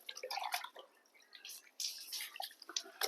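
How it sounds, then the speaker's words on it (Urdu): Water poured from a bucket over a hand during ritual bathing, heard as irregular, close splashes and drips that come in short bursts, fairly faint and with no talk. "سب سے پہلے سیدھے اس پہ ہاتھ آپ کو 3 مرتبہ پانی ڈالنا ہے"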